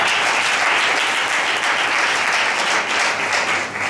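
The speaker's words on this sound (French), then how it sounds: "Applaudissez les témoins." Guests at a civil wedding ceremony applaud the witnesses, a loud, thick and continuous burst of clapping from a crowded room that holds steady for four seconds.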